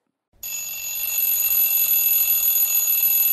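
An alarm clock starts ringing after a brief silence, a steady, shrill electronic ring that holds continuously and loudly to the end.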